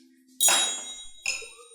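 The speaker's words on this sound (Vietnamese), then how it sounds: "gõ chuông giác ngộ của bác thật là áp lực" A bell struck once with a bright metallic clink that rings out and decays, followed by a second softer strike that leaves a sustained ringing tone, close and fairly loud.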